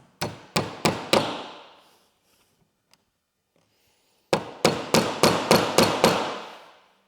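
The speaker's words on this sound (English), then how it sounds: "whenever you're trying to nail this template into white oak or even poplar" Hammer blows driving nails through a door hinge template into white oak: a quick run of four sharp strikes, a pause of silence, then a steady series of about eight more ringing hits, close and loud.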